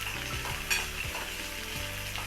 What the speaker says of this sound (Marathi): आपण लालसर असं भाजून घेऊ